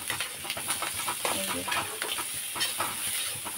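Onion and egg frying in a pan in a home kitchen, a soft continuous sizzle and hiss with intermittent scraping strokes of a stirring utensil, close and fairly quiet, no talking.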